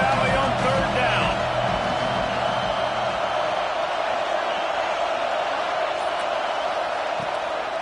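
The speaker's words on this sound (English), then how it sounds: "The noise from this big crowd in Happy Valley on third down." A big stadium crowd at a college football game in Happy Valley roars on third down, a dense sustained wash of cheering and noise, loud and continuous, with a commentator talking over it.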